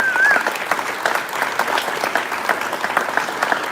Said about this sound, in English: so a big round of applause for event